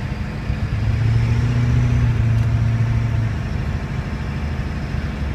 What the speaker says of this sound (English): you can definitely hear that turbo a little bit more, and that's just from my exhaust right there.